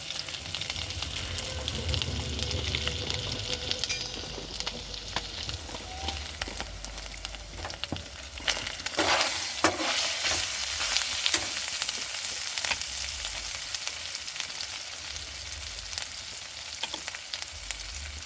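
Potatoes frying in oil for Bengali vegetarian aloo dum after cumin powder goes in, a continuous crackling sizzle with intermittent scraping stirs and clatter, close and steady throughout.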